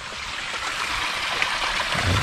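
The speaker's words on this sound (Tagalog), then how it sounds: "Sapang maliit at sapang patay." A small creek trickles and rushes steadily in the countryside, a close, continuous watery hiss with slight gurgles and no voices.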